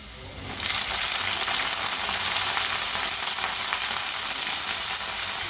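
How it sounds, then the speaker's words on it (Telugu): Brinjal pieces drop into hot oil with curry leaves in a pan, setting off a loud, steady sizzle that jumps up suddenly and then holds a constant hissing fry. "కరివేపాకు వేసుకున్నాం ఇందులోనే. ఇప్పుడు వంకాయ ముక్కలు వేసేసుకున్నాము"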